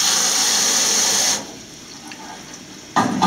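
A deionized water spray gun at a refurbished semiconductor wet bench hisses loudly for over a second, stops, then bursts on again briefly at the end.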